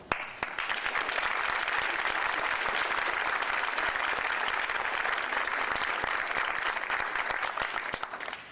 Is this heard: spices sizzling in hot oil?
no